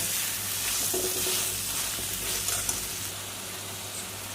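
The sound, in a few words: masala and potatoes being fried and stirred for Katla fish kalia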